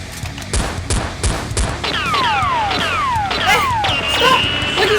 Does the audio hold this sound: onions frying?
no